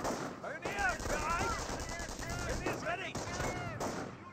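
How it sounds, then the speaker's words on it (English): Rifle fire crackles in the World War II strategy game Company of Heroes, with repeated bursts and scattered shots over a busy battle din, and a voice talking over it. "We're seeing some fire from the rifleman."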